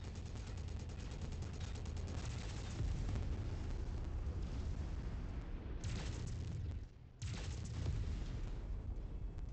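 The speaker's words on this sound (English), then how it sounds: "this guy is probably right in range and he's shooting back" Weapon fire and explosions in the MechWarrior 5 video game make a dense, continuous barrage of booms and bursts. It holds nearly the whole time, with one short drop to quiet near the end.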